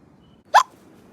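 Callie, a cartoon character, gives a single sharp hiccup, short and loud, against near silence.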